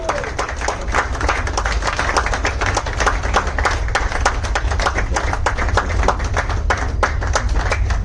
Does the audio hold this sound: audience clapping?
yes